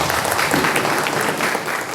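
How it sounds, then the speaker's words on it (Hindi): An audience applauds after a stage play, a thick, loud wash of clapping from many hands that stays steady for two seconds with no voices on top. "और एक जोरदार तालियों के साथ मैं विदा लेता हूं।"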